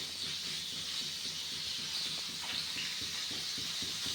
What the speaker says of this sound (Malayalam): ഇത് നമ്മൾ നന്നായിട്ട് വറുത്തെടുക്കണം.